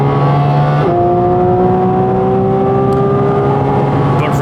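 Porsche Cayman GT4 RS engine pulling hard on a race track, loud and steady, with a rising harmonic whine that climbs through a gear change near the start and keeps accelerating to the end.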